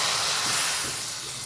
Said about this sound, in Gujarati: તો હવે આપણે વઘારને કઢીની અંદર ઉમેરી લઈશું